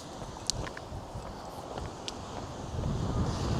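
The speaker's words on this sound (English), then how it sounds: "It's too windy." Wind gusts at a seaside lighthouse in Newcastle, Australia, a steady rumbling rush against the microphone that swells toward the end, with a few faint clicks and taps.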